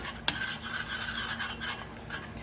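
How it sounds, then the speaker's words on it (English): A flour roux for gravy being stirred in a pan, with a steady scraping and swishing of a utensil against the metal, a faint background sizzle and one sharper clink near the start. "And you wanna keep mixing so nothing burns."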